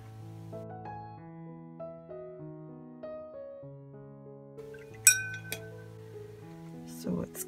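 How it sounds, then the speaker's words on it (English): Two light, bright tings of a watercolor paintbrush hitting the side of a water glass, one sharp and one softer, ring out over gentle sustained background music. "my brush hitting the side of the water glass."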